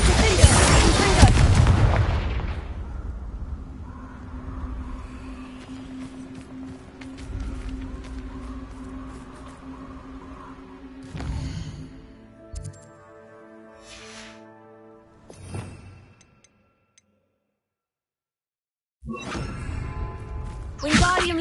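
Spell explosions from Bombarda and Confringo in the video game Hogwarts Legacy: a loud blast opens, followed by sustained rumbling and crackling effects with scattered sharper bursts, a short silence, then another loud burst at the end; a voice calls out spell names.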